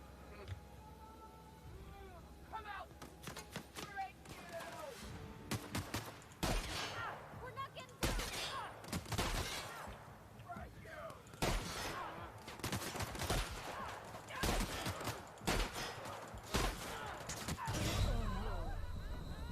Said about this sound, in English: Shotguns did no damage.